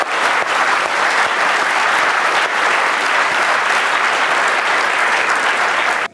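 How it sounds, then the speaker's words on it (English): A large lecture audience breaks into sustained, dense applause, loud and steady throughout, fading out abruptly at the very end with no talking over it. "I think that deserves an applause"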